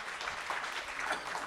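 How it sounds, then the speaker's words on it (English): Audience applause welcoming Professor Fernando Rojas of the Asian Institute of Management at the ASEAN 2017 Dialogue, steady clapping from a crowd filling the whole moment without speech. "Let's give him a big warm round of applause"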